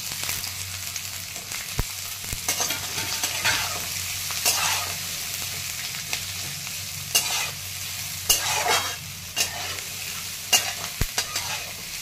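Soaked chana dal with cumin and garlic stir-frying in hot oil, a steady close sizzle broken by repeated sharp scrapes and clacks of a spatula against the pan.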